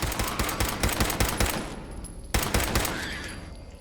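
Fallout 4 gunfire from a .38-caliber gun: a rapid string of close, sharp shots in an uneven rhythm, a brief gap, then another cluster of shots tapering off with echoing tails.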